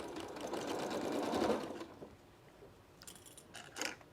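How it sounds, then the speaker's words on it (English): A sewing machine stitching a quilting seam at a quarter-inch allowance, a close, quiet, rapid mechanical whir running for about two seconds, then stopping, followed by a few light clicks and handling taps. "I'm going to stitch it all the way down."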